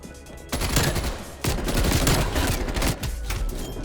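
Rapid bursts from the KSP burst-fire SMG in Black Ops Cold War, loud and close, with quick follow-up shots running nearly continuously across the clip in several dense volleys.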